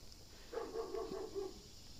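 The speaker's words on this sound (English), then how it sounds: "dog barking." A single dog barks a short run of several quick barks in the middle, faint and somewhat distant over quiet outdoor garden background.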